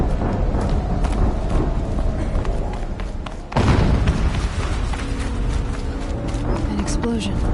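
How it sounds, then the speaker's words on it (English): In the video game Horizon Zero Dawn, a sudden deep boom of an explosion bursts out midway through a snowy scene, standing out loudly over the game's ongoing background sounds and scattered thuds. "An explosion."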